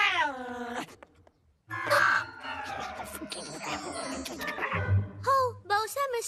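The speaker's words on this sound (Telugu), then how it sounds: "మిస్టర్ క్యాట్ కి నా మీద కోపం వచ్చింది." A cartoon cat meows and lets out drawn-out caterwauls, loud and close, with cartoon voices speaking around the cries.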